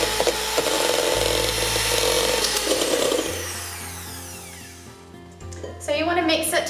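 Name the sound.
electric mixer creaming butter and sugar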